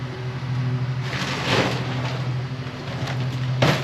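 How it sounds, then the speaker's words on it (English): A lawn mower drones steadily nearby, with slight swells in loudness and no voices. "their lawn service is mowing at the moment"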